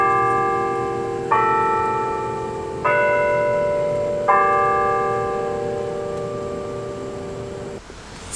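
Bells of St. Elizabeth Church in Eureka Springs, Arkansas ring from the bell tower: three loud, close strikes a second or so apart, each leaving a long humming decay that overlaps the next before fading.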